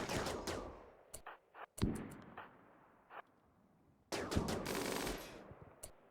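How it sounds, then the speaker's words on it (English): Rapid minigun fire in the video game Rimworld Odyssey, sustained loud bursts of gunfire with short gaps between them, separated by a few sharp single cracks. "And minigun go burr."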